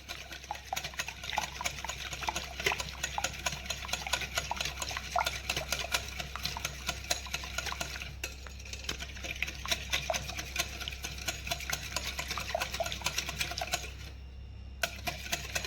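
Sugar is whisked by hand into eggless cupcake batter in a bowl, giving a rapid, continuous clicking and scraping of utensil against bowl. It runs steadily throughout with a brief pause near the end, and nobody speaks.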